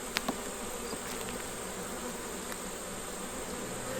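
Honey bees buzz in a steady, close drone during a hive inspection as the colony is smoked, with a couple of faint knocks early on and no talk.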